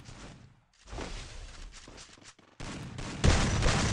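Rapid bursts of video game gunfire crackle in uneven clusters, growing louder and denser toward the end, with no talking.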